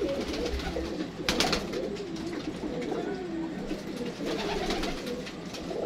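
Pigeons coo steadily nearby, low throaty calls overlapping continuously, with a brief flutter of wings partway through.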